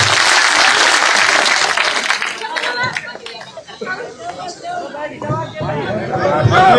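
A crowd at a public rally in a village claps loudly, and the applause fades into chatter and voices partway through before rising again.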